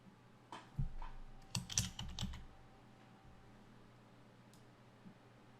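A few short bursts of typing on a computer keyboard while entering text into a slide in Articulate Storyline 3, quiet and close, clustered in the first half and then fading to near silence.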